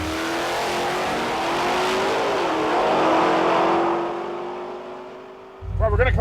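A 1966 Mercury Comet drag car with a 427 engine roars loudly at the strip, its steady high-revving drone rising then falling away, before a sudden closer burst of engine noise at the end.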